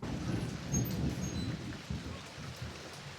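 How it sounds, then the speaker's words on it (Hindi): Heavy rain pours steadily on a village home garden where French beans grow, a dense, close hiss of drops with a low rumble like distant thunder underneath and no voices. "और बरसात तेज हो गई है"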